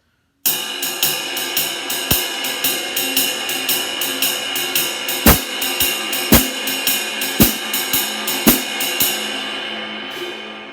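Drum set playing a shuffle groove with skip notes on all four beats, a steady swung cymbal pattern over bass drum and accented hits, played alone with no talking.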